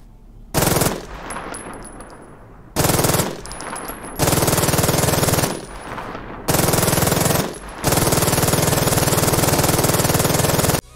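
An MG42 machine gun fires in long, loud bursts in the video game Polyfield, with a very rapid tearing rate of fire. Several sustained strings are separated by short gaps that carry a faint echoing tail.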